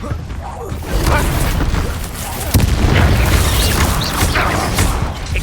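Heavy booming blasts and crashing rumble from an Incendio fire spell in the Hogwarts Legacy game on Xbox Series X, loud and close, with a dense roaring surge that swells twice and sustains throughout.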